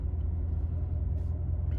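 A C7 Corvette Grand Sport engine gives a low, steady rumbling purr heard from inside the car while driving, quiet and even throughout with no sharp changes.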